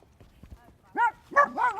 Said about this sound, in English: my dogs want to say hi to everybody